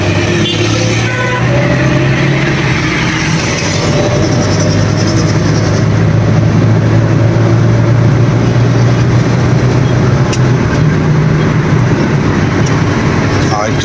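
Road traffic on Mansehra Road in Abbottabad, a continuous loud rumble of passing cars and trucks with steady engine drone throughout, heard up close beside the roadway.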